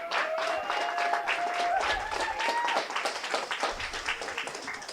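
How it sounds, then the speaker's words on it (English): A room of guests at an event honouring a World War II veteran gives steady, dense applause for the hosts, lasting several seconds. A faint sliding music tone sits underneath. "Please give them applause."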